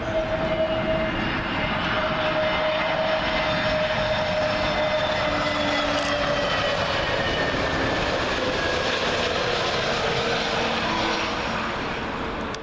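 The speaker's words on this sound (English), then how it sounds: "Up next, SAS 320neo, from Stockholm." An SAS Airbus A320neo arriving from Stockholm passes low on approach to Heathrow's runway 27L, a steady loud engine roar with a faint whine held throughout, alone without voices.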